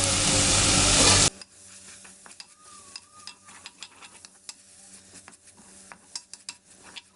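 Green chillies, ginger-garlic paste and curry leaves drop into hot coconut oil in an earthen pot for a Kerala chicken curry, first a loud burst of spitting sizzle, then a quieter crackle broken by sharp spoon taps and stirring scrapes.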